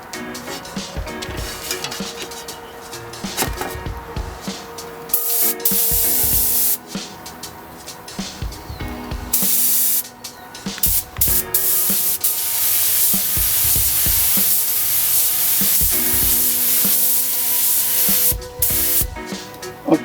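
Mini spray gun spraying a final coat of paint at low air pressure, a steady loud hiss in long continuous bursts with brief pauses between passes.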